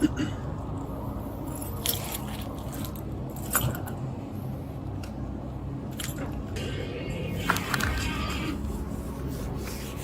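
Keys jangle and clink during a pocket search, mixed with fabric rubbing and rustling, with louder metallic bursts now and then over a steady indoor background.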